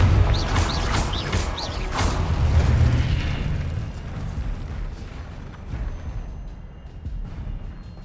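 Blasting Confringo spell explosions from the Hogwarts Legacy video game: a run of loud, rumbling booms with sharp bursts in the first few seconds, then a fading, crackling tail.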